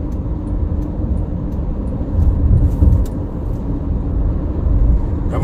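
Car cruising on the Pejagan–Cirebon section of the Trans-Java toll road on a clear morning with light traffic: a steady, loud low road and engine rumble heard from inside, swelling slightly a few times, with no talking.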